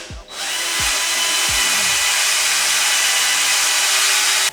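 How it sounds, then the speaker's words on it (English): Power drill with a small bit whirring steadily to strip the seal from an SSR GT3 three-piece wheel, a continuous loud high-pitched spin after a few brief low thumps at the start. "I'm going to use a drill, put this little bit on there to get it off"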